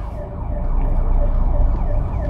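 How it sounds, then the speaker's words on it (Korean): An emergency siren wails faintly through steady traffic and engine rumble on a driving-test road course in Dobong, Seoul. "사이렌 주의."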